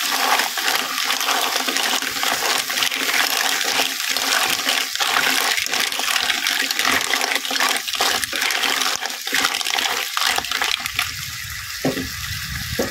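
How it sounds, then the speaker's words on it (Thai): Broth or water is poured into a pan of stir-fried clams with chilli paste, making a continuous rushing, splashing flow that is close and fairly loud. It carries on for several seconds and eases off at the end. "เติมน้ำซุปหรือน้ำสะอาดลงไปนะคะสักประมาณ2ทัพพี"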